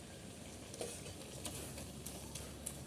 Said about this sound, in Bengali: এখন আমি কাটাকাটি দিয়ে এটাকে ঘেটে দেবো